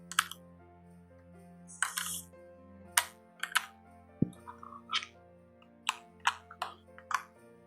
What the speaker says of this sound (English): I'm going to pull the keycap off real quick so you can see